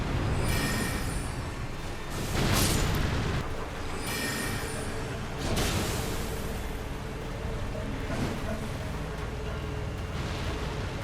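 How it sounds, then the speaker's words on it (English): Spell explosions from a caster build in a fantasy action game: about three heavy, broadband booming bursts recur every few seconds over a steady wash of noise, with no talking. "Even the uncharged one has a pretty big explosion radius on the ground."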